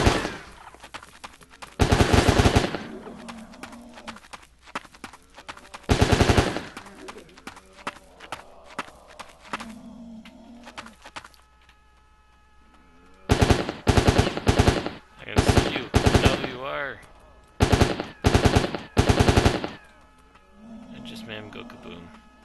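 Bursts of automatic gunfire mowing down zombies in the shooter game Critical Strike, zombie survival mode: several loud, close volleys, short ones early then a rapid run of repeated bursts, separated by quieter in-game stretches.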